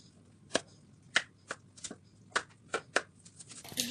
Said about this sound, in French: je vais les couper en 2.